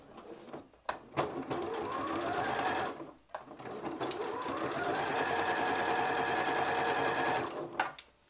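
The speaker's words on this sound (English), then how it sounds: "the whole time I'm sewing, I'm just going to be checking that everything is lining up" Sewing machine running steadily as it stitches the seam of a fur-trimmed Christmas stocking, with short pauses between long continuous whirring runs, close and fairly loud.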